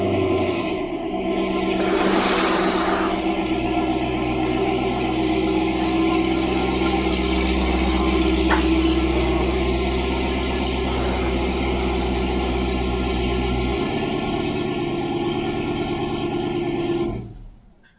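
A Dodge Challenger Hellcat rumbles loud and close as it rolls forward, a deep steady engine drone holding for most of the stretch before shutting off near the end.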